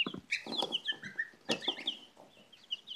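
Light Brahma hens and their young chicks make a near, busy mix of high peeping chirps and low clucks, with overlapping calls in quick bursts and no talking.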